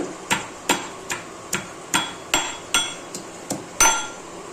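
Ingredients for masala rice are crushed with about ten sharp, evenly spaced pounding knocks, close and clear, each ringing out briefly before the next, with no talking.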